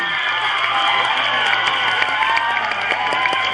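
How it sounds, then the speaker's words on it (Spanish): Pageant audience at the Flor Purépecha results in Paracho clapping and cheering, a dense, steady wash of applause with scattered shouts running throughout the short stretch. "Un fuerte aplauso"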